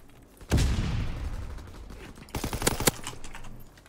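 Shotgun blasts in a first-person shooter video game: one heavy, booming shot with a long decaying tail, then a quick burst of several sharper shots close together, with faint voice chat beneath.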